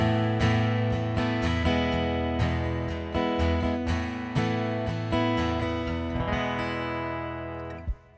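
An acoustic guitar played through an Anthem SL pickup with no blend, strummed chords ringing out bright and loud in a steady rhythm, then decaying to a final muted stop.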